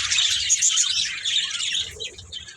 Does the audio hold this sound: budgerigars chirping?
yes